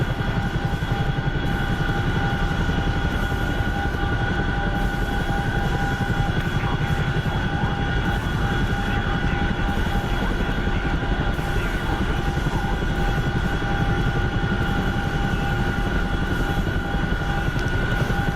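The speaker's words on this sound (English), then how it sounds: "It's a great transport helicopter though." Transport helicopter in a video game flying continuously, a steady rotor and engine drone with a constant whine on top, loud and unchanging throughout with no speech.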